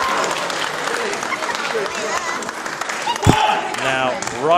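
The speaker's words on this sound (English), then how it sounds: "Crowd getting in on the action now." A wrestling crowd at a championship match applauds and cheers loudly in a dense, sustained roar, with a commentator's voice talking over it and a sharp thud partway through.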